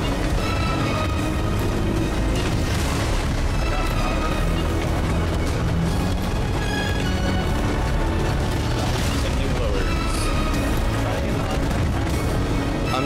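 Ship cannons fire during a naval battle in a video game, heard as a dense, continuous din of booms and crashes with no clear gaps.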